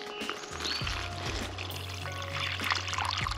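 Pure water from a bottle pours and splashes steadily into a rinsed container for a puppy dog on a redwood forest hike, close and fairly quiet, with low rumbling background noise.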